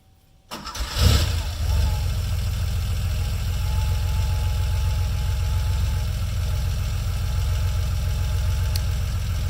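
An air-cooled engine of a 1986 Porsche 911 Carrera convertible cranks briefly, catches and settles into a steady, loud, throbbing idle that holds for the rest of the clip, close to the car.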